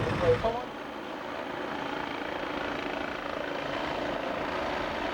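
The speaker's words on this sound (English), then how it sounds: "They're going to get a helicopter to come in and lift the boom out" A steady, broadband helicopter drone at moderate distance, holding evenly throughout with a faint brief sound near the start.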